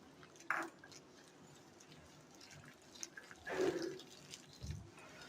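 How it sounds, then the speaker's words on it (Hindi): Water is added a little at a time to gram flour (besan) batter for parathas, heard as two short, close splashing pours separated by quiet stirring noises. "पानी हम थोड़ा थोड़ा इसमें करके डालेंगे क्योंकि सब्जियों में भी पानी होता है।"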